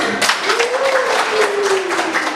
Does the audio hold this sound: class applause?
yes